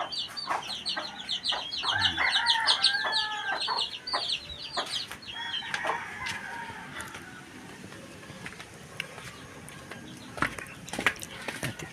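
Chickens and chicks cluck and chatter close by in a farmyard, with overlapping calls, some crowing-like cries and scattered knocks and handling noises throughout.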